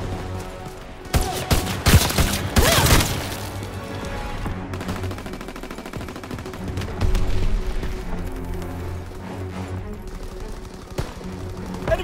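Mortar blasts and gunfire in the World War II shooter Call of Duty: WWII: heavy explosions burst early, then scattered rifle and machine-gun fire rattles on through the battle with further loud volleys.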